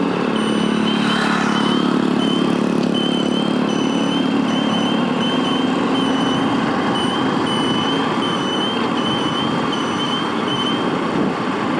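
A vehicle engine drones steadily and loudly while riding along the Kanakapura highway, with constant road and wind rumble throughout and no talking.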